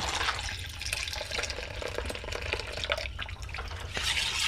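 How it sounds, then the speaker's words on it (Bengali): Milk is poured in a steady liquid stream into a bowl while curd is being made, a continuous close splashing flow. "এবার সম্পূর্ণ দুধটাকে আমি ঢেলে দিচ্ছি"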